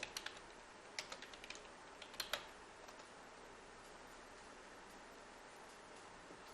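Keys tapped on a computer keyboard while entering code, a quick cluster of faint clicks early on and a few sharper taps midway, then mostly quiet hiss.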